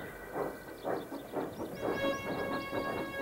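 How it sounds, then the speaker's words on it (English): A steam locomotive puffing away, with rhythmic chuffs at a steady pace and faint whistle-like tones above them, heard alone at moderate volume. "And then Thomas puffed off"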